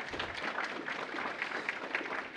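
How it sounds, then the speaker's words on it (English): A crowd applauding a graduate at a ceremony as a photo is taken, a dense, steady wash of many hands clapping at moderate volume with no pauses. "We'll give you a round of applause while we get your picture."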